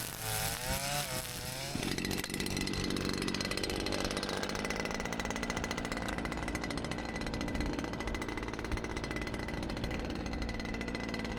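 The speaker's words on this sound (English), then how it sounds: "it's hard to get the trimmer to feed sometimes" A Stihl FS 251 string trimmer cutting grass on a soft hillside: the engine revs briefly, then holds a loud, steady, buzzing drone close by.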